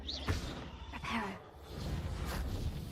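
A Reparo repair spell in the video game Hogwarts Legacy produces swirling, rising whooshes and shimmering tones over steady game ambience, lasting a few seconds.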